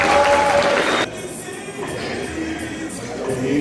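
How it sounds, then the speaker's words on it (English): Guests applaud the newlyweds at a wedding reception, a burst of crowd clapping that is loud for about a second, then drops to a fainter background murmur. "applause."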